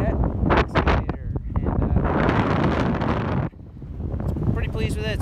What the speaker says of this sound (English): Alright, so it's pretty windy out